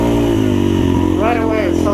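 A modded, regeared and rejetted 2016 Yamaha TTR230 dirt bike revving its engine while being ridden, a steady close buzzing drone that climbs in pitch, with a rider talking over it.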